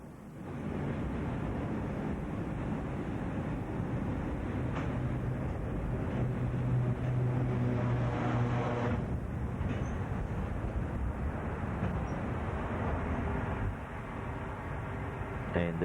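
A TNT freight train from Bandiana, headed by a CLF locomotive, pulls slowly into a station on a suburban line, giving a steady low rumble with some wind buffeting and brief tonal hums, near and continuous throughout.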